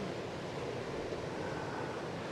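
Ocean waves give a steady, broad wash of surf, continuous and fairly close with no breaks or voices.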